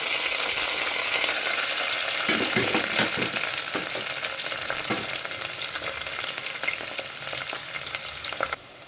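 Onion dropped into hot oil with cinnamon, cloves, fennel and other whole spices for a Tamil chicken curry, crackling loudly and continuously with spoon stirring scrapes throughout, then cutting off near the end; no voices.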